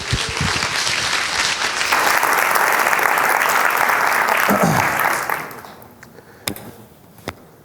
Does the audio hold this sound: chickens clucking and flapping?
no